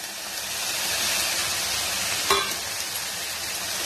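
A pan sizzles steadily with a constant frying hiss as ground chilli spice paste fries, and a single scrape of a spoon cuts through partway.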